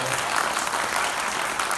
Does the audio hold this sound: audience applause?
yes